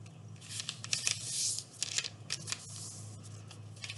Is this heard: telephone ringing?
no